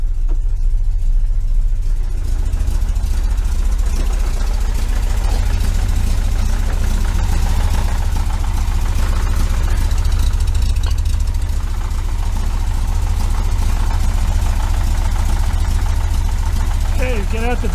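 A 1973 VW Super Beetle engine with Dellorto FRD 34 carburetors and a balance tube idles steadily, a loud low rumbling drone throughout, close to the car.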